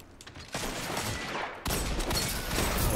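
Shotgun blasts in the video game Destiny 2, a muffled shot near the start and a loud, sharp burst at about one and a half seconds, set in dense, continuous game noise with no talk.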